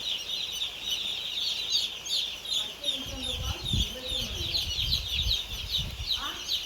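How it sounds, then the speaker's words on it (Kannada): Newly hatched chicks on their first day peep in a steady, high-pitched chorus that runs throughout, with low handling and rustling noises underneath. "ನೋಡಿ ಮೊದಲನೇ ದಿವಸ ಮರಿಗಳು ಹೇಗಿದೆ ಅಂತ"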